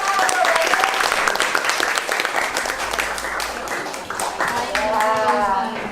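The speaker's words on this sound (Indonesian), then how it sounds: "Tepuk tangan untuk Bayu." A classroom claps for a student named Bayu with a brisk burst of applause from the class, close and loud, while voices chatter and call out over the clapping.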